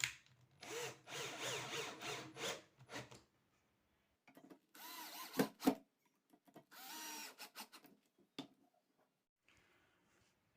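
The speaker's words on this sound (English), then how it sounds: "we're just screwing in the brackets into the melamine shelf" A power drill drives screws, fixing brackets into a melamine shelf in several short whirring bursts separated by pauses, close and fairly quiet.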